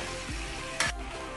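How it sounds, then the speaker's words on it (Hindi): Boneless chicken and spice paste fry on a tawa griddle in a steady, close sizzle, with a short louder burst of stirring partway through. "अब मैं इसको भून रही हूँ अच्छे तरीके से।"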